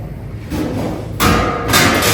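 Charcoal pieces are tipped into a container for smoking nasi mandi, giving a few dull thumps and rattling knocks that swell in two bursts near the end.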